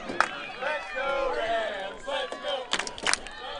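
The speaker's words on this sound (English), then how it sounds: "And now the crowd at Sessions Field trying to hype their team up as we head into the final minute of regulation." Crowd at Sessions Field cheering and yelling to rally their team near the end of a game, a broad murmur of many voices with sharper shouts and whoops rising toward the end.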